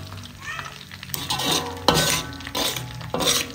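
A fish head fries in hot oil in a pan, a close sizzle broken by several sharp clinks and stirring scrapes against the pan.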